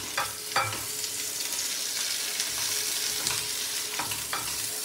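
Beetroot chutney is stirred into hot tempering in a pan, giving a steady sizzle with intermittent spoon scrapes and stirring knocks, close and clear, with no speech.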